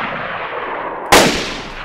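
A single sharp Mosin rifle shot rings out in the DayZ video game, a sudden loud crack about halfway through with a rolling tail, after a stretch of steady ambient noise.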